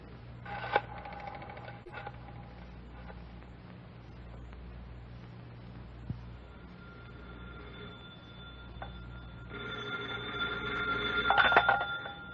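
Telephone dialing and ringing in a Night Beat radio drama, with clicks and faint tones over steady background hum and a louder ringing that builds toward the end.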